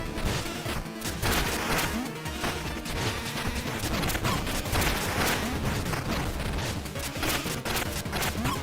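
Dense, continuous bursts of explosions and crashing impacts fill a fight in the video game Mina the Hollower, loud, close and overlapping without pause, with no voices.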